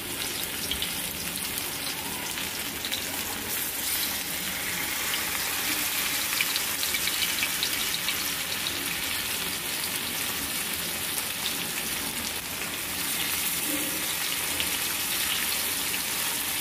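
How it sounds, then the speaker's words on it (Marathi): Surmai (kingfish) pieces fry crisp in oil on a hot griddle over a low flame, giving off a steady, even sizzle that hisses on without a break and with no voices. "तव्यामध्ये मस्तपैकी आता मी तेल टाकून घेतलेले, जेणेकरून आपल्याला मस्तपैकी मच्छी एकदम क्रिस्पी आपल्याला फ्राय करून घ्यायची आहे"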